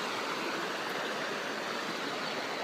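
A Smoky Mountains creek near Pigeon Forge, Tennessee, runs high after a flood, rushing over rocks in a steady, dense broadband roar with no pauses and no voices.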